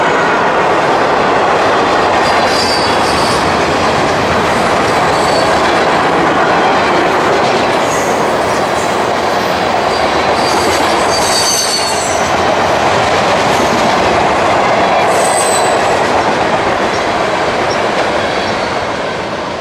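A long CSX freight train rolls by close and loud, wheels clattering over the rails with occasional high squeals, the rumble holding steady throughout.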